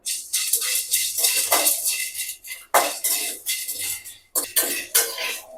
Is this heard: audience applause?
no